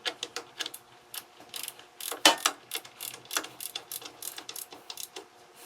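An inch-pound torque wrench with a 1/4 inch socket tightens a servo band adjustment on a 47/48RE transmission, giving close, rapid ratcheting clicks in uneven bursts with no talking.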